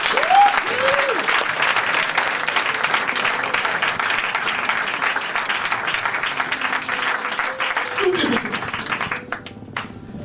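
Broad applause from a church congregation acclaiming the Lord during a French-language sermon, steady clapping filling the room for about nine seconds before tapering off, with faint voices and cheers mixed in.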